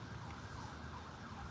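An emergency siren sounds faintly and continuously, with a softly wavering tone against a muted background and no talking.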